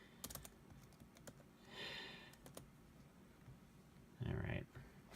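Scattered clicks of keys being typed on a mid-2010 MacBook keyboard, quiet and close, with a soft breathy sigh and a brief low hum near the end.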